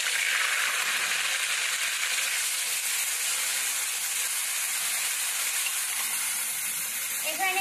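Black cumin and onion paste frying in hot oil, a strong, continuous close-up sizzle and hiss that holds steady and eases slightly toward the end.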